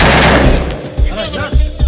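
Bursts of gunfire from sniper positions in the Libyan civil war crack loud and close, in several sharp shots spaced across a brief stretch.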